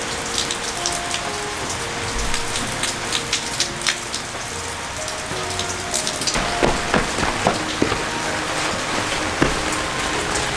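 Steady rain patters on flowering strawberry plants in a Vietnamese countryside garden, a dense continuous hiss with scattered louder drops striking leaves, heavier in the second half.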